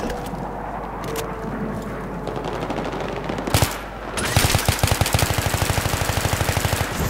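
Automatic rifle fire in Battlefield 3, with rapid, evenly spaced shots that come in a loud, sustained burst after a stretch of background battle noise and a couple of earlier isolated bangs.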